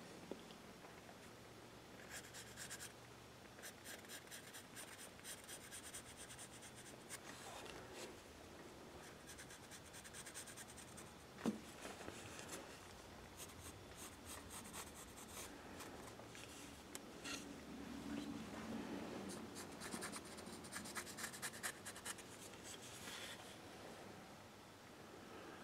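A pencil draws lines on a wood carving bust, giving soft, intermittent scratching and rubbing strokes that are faint and close, with scattered small taps and quiet gaps between strokes.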